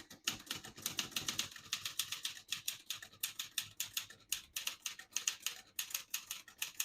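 Rapid clacking keystrokes on a 1971 Olivetti Lettera 32 manual portable typewriter, steady and close, with brief pauses between bursts of typing.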